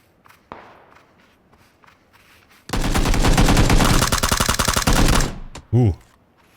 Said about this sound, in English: So that's the AK doing AK things